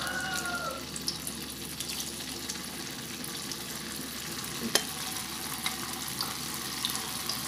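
Tofu skin fries in hot oil over high heat for a vegetarian dish, giving a steady, close sizzle and bubbling with a few light clinks of a utensil throughout.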